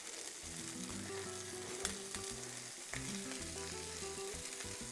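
Canned corn sizzles steadily as it roasts in a hot pan, a close, continuous crackling fry with faint stirring clatter and no talking.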